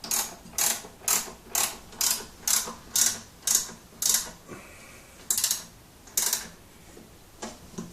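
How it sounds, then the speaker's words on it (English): A ratcheting spanner clicks in quick, regular bursts while a blower is fitted during a BMW E39 EV conversion, close and crisp, the rhythm loosening and pausing toward the end, with no talking. "The old ratcheting spanner, very handy piece of kit."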